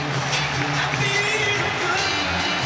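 A Sunderland football crowd at a play-off semi-final against Sheffield United roars steadily after their side's second goal, a dense wash of cheering and shouting that holds loud and continuous throughout.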